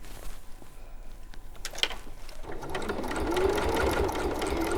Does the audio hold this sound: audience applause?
no